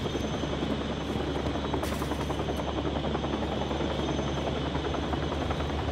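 Steady helicopter rotor drone with a thick buzzing engine hum from the video game Still Wakes the Deep, set on an oil rig, continuous and loud throughout, no voices.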